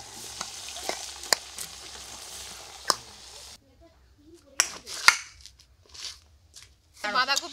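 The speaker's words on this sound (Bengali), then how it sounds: "এই মাছগুলো ভেজে নাও।" Pieces of rohu fish frying in a pan at a family picnic cooking session give off a steady loud sizzle peppered with sharp pops, then the hiss drops away as people talk over softer kitchen clatter.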